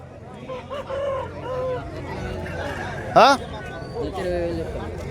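At the Kothagudem hen market a rooster crows loudly once, close by, amid a crowded hubbub of people talking and occasional clucks from other fowl.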